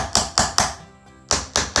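Six sharp, evenly spaced taps of a hammer on wood, tapping a cutting board down onto a sacrificial board, with a short pause in the middle, close and crisp.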